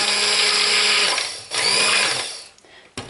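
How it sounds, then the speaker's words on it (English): A stick blender whirs steadily while mixing melting lard and soap oils in a crockpot for hot-process lye soap, loud and close, dipping briefly midway and cutting off near the end. "I usually do kind of try to put the blender on top of it"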